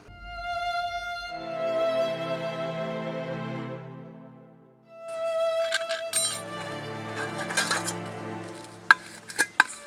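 Metal dishes and utensils are scrubbed and washed, with clinks and scraping clatter over a sustained tonal background, growing busier toward the end with a few sharp knocks.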